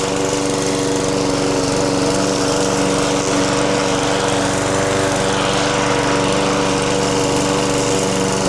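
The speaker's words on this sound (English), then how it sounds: "we're just mowing the lawn and doing some other garden stuff today" A lawn mower runs loud and steady close by during garden work on a warm day, its engine droning continuously without a break.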